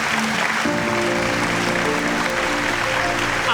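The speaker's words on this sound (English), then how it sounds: "Please give a big round of applause to" Applause from a school assembly crowd greeting a newly named deputy head girl, a steady dense clatter of many hands sustained throughout with faint tonal background sound.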